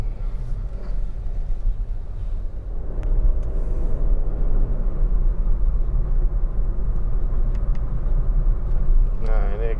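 A Honda BR-V rolls through slow traffic with a steady low road rumble and engine drone heard from inside the cabin, while someone talks throughout and brief clicks and a chime sound near the end.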